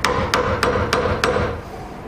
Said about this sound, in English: we'll chisel it in to the 2mm depth we need